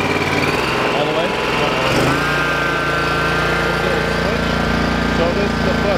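A small carbureted engine on a stand-on lawn aerator revs up to full throttle, then holds a loud, steady high-pitched drone close by. Voices are faintly present under the engine.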